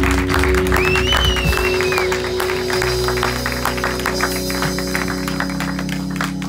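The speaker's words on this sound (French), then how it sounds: "Est-ce qu'on peut applaudir la louange?" Church congregation clapping for the worship team after a song, scattered applause mixed with lingering sustained tones and a brief melodic vocal line early on, fairly loud and close.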